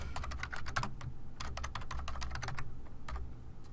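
Fast typing on a computer keyboard, a dense run of quiet clicky keystrokes in short bursts with brief pauses, close by and alone.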